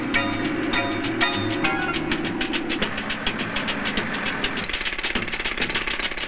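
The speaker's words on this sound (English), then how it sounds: "Pneumatic drills can be used only on the outer sections." Pneumatic drills hammer into sandstone while the Abu Simbel temples are cut apart, a loud, steady rapid chatter with a mechanical engine drone underneath and no speech.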